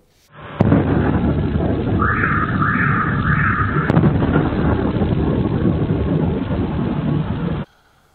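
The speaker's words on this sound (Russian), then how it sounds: "Взрывы были слышны в том числе в городе Курчатов, где находится Курская АЭС." Rumbling, continuous roar of distant blasts from downed missiles and drones near Kurchatov, Kursk region, rolling on for several seconds, loud and dense, with a few sharp cracks standing out.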